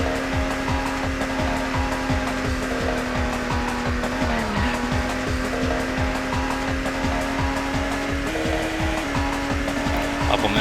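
Racing car engines whine steadily in the Automobili Lamborghini N64 video game, with a droning, shifting engine pitch and repeated tire squeals as the cars take corners, loud and continuous with no talk.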